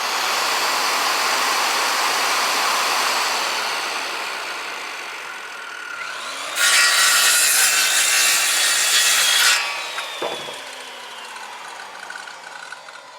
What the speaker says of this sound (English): then you just cut it out with your scroll saw